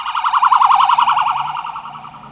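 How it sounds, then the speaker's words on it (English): An ambulance siren wails with a rapid, warbling yelp pattern, loud and close at first and then fading slightly as it passes through traffic. "It wasn't a police car this time, it was an ambulance"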